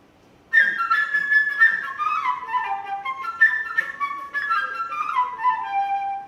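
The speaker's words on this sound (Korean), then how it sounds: "먼저 새소리입니다" Ensemble performance of the bird theme from Peter and the Wolf: a high, flute-like melody of quick trilling, chirping phrases that begins after a brief silence and plays alone.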